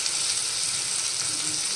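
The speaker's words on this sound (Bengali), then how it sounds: "এই যে আলুটাও ভালো মতন কষে গেছে, তেল ছেড়ে দিয়েছে" Potatoes cooked down in oil until the oil separates, frying with a steady, dense sizzle close by, unbroken and even for the whole moment, with no voices over it.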